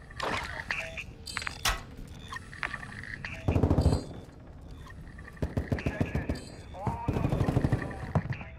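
Automatic weapon fire in a military shooter video game crackles in repeated sharp bursts, loud and close, with short gaps and a few heavier clusters of shots between them.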